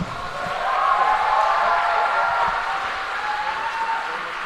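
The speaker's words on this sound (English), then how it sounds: "Give them a round of applause" A live audience at a swordfish 2018 event applauds steadily, a dense wash of many hands clapping together at moderate loudness, continuous throughout with no clear speech over it.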